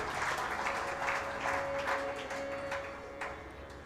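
An audience at a spiritual discourse claps continuously in warm, even applause that holds steady, then gradually softens toward the end.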